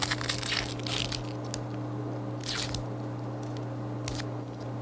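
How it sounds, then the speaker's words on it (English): A knife chops and minces an onion on a cutting board, crisp crunchy strokes coming in irregular bursts near the start, middle and end over a steady background hum from a 2006 television cooking segment. "you want to mince the onion"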